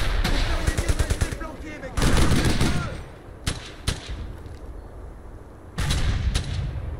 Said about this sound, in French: On ouvre le feu!